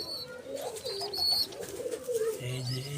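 Domestic pigeons coo in soft, repeated throaty phrases, close by, with faint chirps and light background noise around them.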